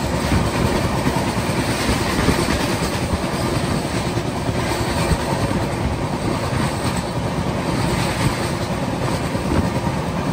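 The Mumbai Howrah Mail rolls along the tracks near Nagpur in a constant loud rumble with a rhythmic clickety-clack and occasional wheel squeal, no voices.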